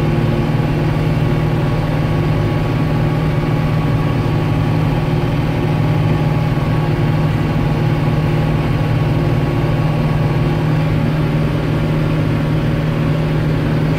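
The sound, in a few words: Renault Celtis 456 RX tractor engine while driving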